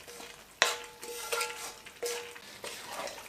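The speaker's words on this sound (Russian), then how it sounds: "Перемешиваем." Potatoes being stirred into a pan of stewed solyanka, with a spoon scraping and clinking against the pan in a few distinct strokes over a soft simmering sizzle, close and fairly quiet.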